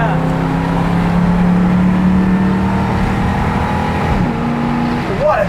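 A 1967 Ford Fairlane GTA with a 390 big-block V8 runs loud and close, engine droning steadily and then revving near the end, with voices talking over it.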